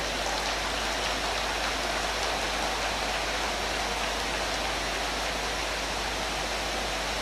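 Steady, dense rain pours down without a break, a hissing wash of drops that stays even and fairly loud throughout, with no voices over it.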